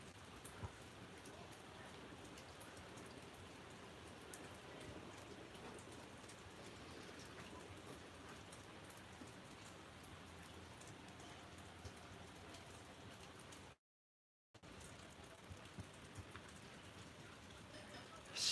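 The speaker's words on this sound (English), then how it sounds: "Sleepy weather is the rain." Steady rain falling during a storm ahead of a cold front, a dense, even hiss of drops that continues throughout with one brief gap of silence near the end.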